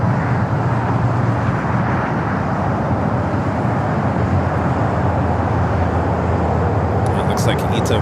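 A heavy jet at LAX, a loud, constant low roar of engines that fills the whole span without a break, with a voice talking over it.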